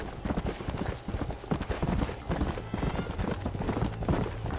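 A horse gallops in the Red Dead Redemption video game, its hooves beating in a fast, steady clip-clop rhythm, close and prominent from start to finish, with faint game ambience underneath.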